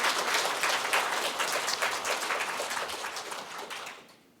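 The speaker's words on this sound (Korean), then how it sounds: "큰 박수로 한번 좀 받아가시면" Church congregation claps for the conductor, accompanist and choir after worship, a dense round of applause that fades out over four seconds, no voices.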